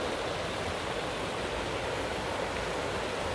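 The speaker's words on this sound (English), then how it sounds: "And last but not least, this very cool little creek thing down here." A small, clear creek runs through a California forest, giving a constant broadband rush of flowing water, close and even, with no voices or other sounds over it.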